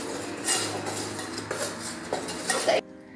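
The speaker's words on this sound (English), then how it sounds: "So we need a pinch of baking powder and then gonna mix it for 20 to 30 seconds." A spoon stirs chocolate mug cake batter with baking powder inside a mug, scraping and clinking against the sides in quick uneven strokes before it stops abruptly.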